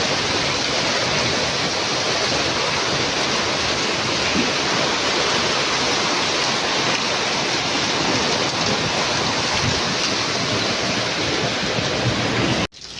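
Heavy rain falls in a steady, dense hiss, loud and continuous throughout with no voices, then cuts off abruptly at the very end.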